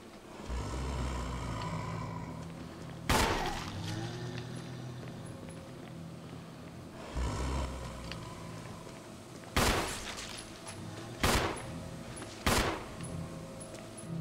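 Several gunshots ring out in Resident Evil HD, sharp and loud, spaced a few seconds apart and then in a quicker cluster near the end, over a low background rumble with no speech.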